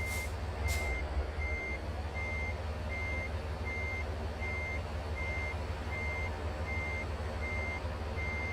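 A truck in American Truck Simulator backs into a loading dock. Its reversing alarm beeps evenly about every half second over a low, steady engine rumble, with a short hiss near the start and no talk.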